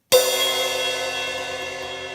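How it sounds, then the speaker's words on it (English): A single crash cymbal struck once, a sharp bright attack blooming into a long shimmering wash that slowly decays, loud and close. "And then this is the crash cymbal, sounds like this."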